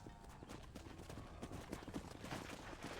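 Horse hooves clip-clop in a steady rhythm in Red Dead Redemption, a horse walking near a ranch stable at a moderate distance, quiet and alone with no talk.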